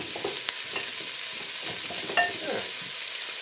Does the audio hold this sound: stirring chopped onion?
yes